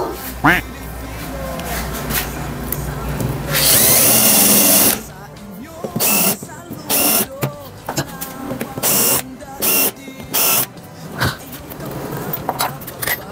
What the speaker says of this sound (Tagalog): nabutasan na natin para sa ulo ng screw